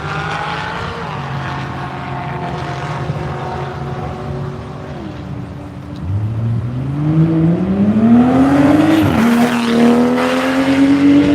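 Race cars, including a Forsyth Supra, circulate on the track at NCM during a One Lap of America morning session, with engines droning and rising in pitch as a car accelerates past up close, its tone sweeping upward.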